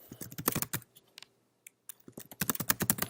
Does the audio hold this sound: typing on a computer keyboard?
yes